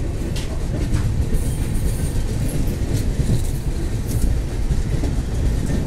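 A loud, continuous rumble of a moving train with rattling wheels on the track, heard nearby without a break at the old Ayodhya railway station.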